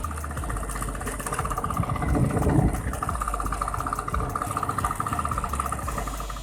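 A 1970 Vespa Super round-head scooter engine idles close by, a steady low putter with a slight swell midway, running alone without speech.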